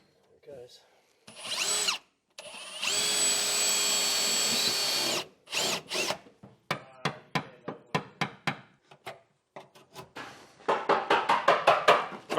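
A power drill whines in sustained bursts, then stutters in rapid short pulses as it bites through the metal of a Mazda RX-7's spare wheel well, loud and close with brief pauses.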